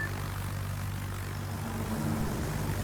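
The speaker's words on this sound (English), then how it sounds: "And now rocket planes" Rocket attack planes in World of Warships, a steady droning propeller-aircraft engine hum, moderately loud and continuous with no talk.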